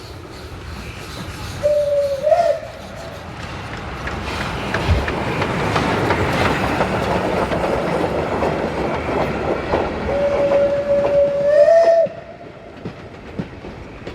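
A preserved Class 423 steam locomotive built in 1921 runs on rails, wheels clattering steadily over rail joints with two clear whistle blasts, one early and one later, heard close and loud.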